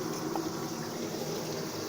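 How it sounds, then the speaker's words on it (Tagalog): Fish frying in a pan at home gives a steady, dense sizzle, a continuous wash of hiss and bubbling at close range with no voices. "Nagpiprito tayo ng isda."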